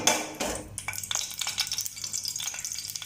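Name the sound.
cabbage cubes shallow frying in a pan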